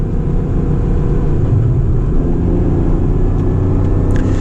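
Acura NSX with a naturally aspirated engine and an 8,000 RPM redline, driven hard on winding roads, giving a steady, loud, close low drone of engine and road noise throughout with no talking.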